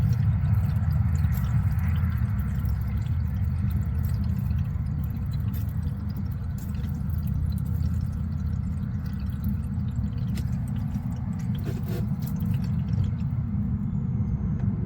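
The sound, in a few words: water draining from RV plumbing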